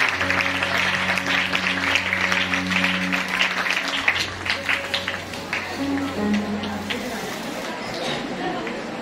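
Audience applause welcoming a priest at a church anniversary gathering on the feast of St. Francis of Assisi, a steady wash of clapping over a low hum, with voices talking through it.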